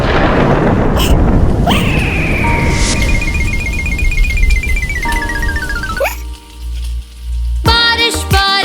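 Thunder and rain sound effects in a Haryanvi children's rhyme, a loud rumbling wash of rain noise opening the passage before giving way to synthesized tones and music.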